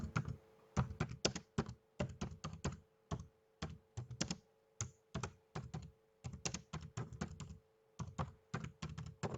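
Fingers typing on a computer keyboard while entering text in a Scratch project, giving steady close-up clacking keystrokes in quick runs with short pauses between them, and no speech.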